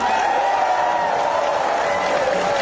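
A rally crowd claps and cheers steadily, a dense continuous wash of applause with a sustained vocal roar running through it throughout.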